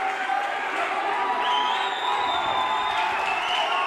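Crowd at a kickboxing match cheering and roaring loudly, a sustained wall of voices with rising whoops and shouts throughout, close and unbroken.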